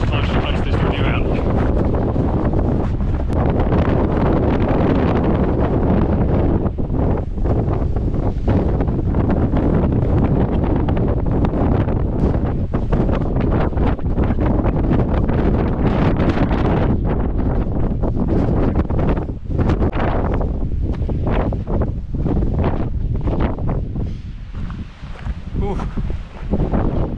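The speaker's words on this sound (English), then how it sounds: "Apparently it's up to 96 km/h gusts today." Extreme gusty wind of up to 96 km/h batters an outdoor action-camera microphone, a constant loud roaring buffet with sharp bursts throughout.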